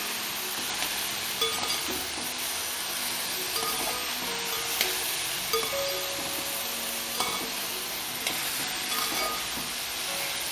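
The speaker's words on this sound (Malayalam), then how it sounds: "ഉപ്പിട്ടതിന് ശേഷം നമുക്ക് ഇളക്കി കൊടുക്കാം" Ivy gourd and long beans being stirred in a frying pan, a steady sizzle with scraping utensil clinks and light knocks scattered throughout, close and continuous with no voices.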